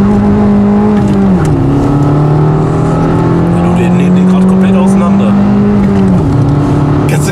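A Fiat Panda 100HP engine revs hard under acceleration and climbs steadily through the gears, with a shift partway through and another near the end. The engine is loud and close, and a voice talks over it.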